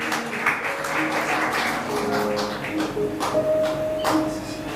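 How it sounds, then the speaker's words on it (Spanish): Church congregation clapping during a Spanish-language service, a dense patter of many hands with some louder sharp claps, sustained throughout, with faint voices and tones underneath. "denle un aplauso al Rey de Gloria en esta mañana"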